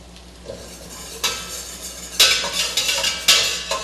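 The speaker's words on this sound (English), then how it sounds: "So we're going to whisk that, make sure that the butter and the flour incorporate with each other." Butter and flour being whisked together in a pan on the stove: a quiet sizzle at first, then rhythmic scraping whisk strokes that grow louder and faster, close up with no voices.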